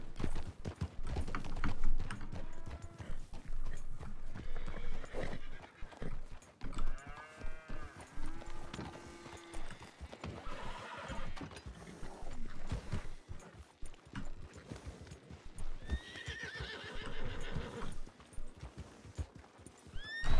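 Horses in a Wild West roleplay video game whinny repeatedly and clop their hooves, with cattle mooing among them, a busy, close herd of animal sounds across the whole stretch.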